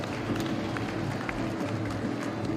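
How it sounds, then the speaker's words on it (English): A crowd claps in a staged fight scene, a fast continuous patter of many hands blended with arena crowd noise, steady and moderately distant throughout. "People are actually clapping for this fake shit."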